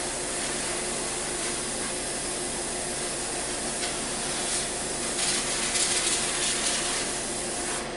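Compressed air blowing dust off a model in a workshop with a vent fan running, a continuous close broadband hiss that stays steady for about eight seconds, with no talking.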